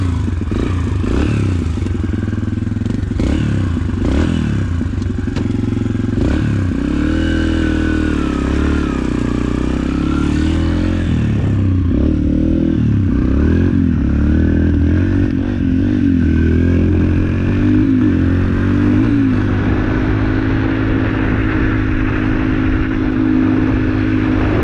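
A cold Yamaha motorcycle engine running on choke, loud and close, with a rough, uneven idle and clattering mechanical noise that settles into a steadier drone after the first half.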